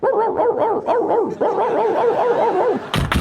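A dog barks in a steady run of loud, close yips and woofs toward a tour bus, the barks coming in quick bursts with a short pause midway, alone with no talk.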